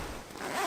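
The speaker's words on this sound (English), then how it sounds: "You can zip this thing all the way up and just lock in all that heat." Zipper on a Big Agnes Anvil Horn 0-degree Downtek sleeping bag being pulled shut in one quick, close, continuous rasp, rising slightly toward the end.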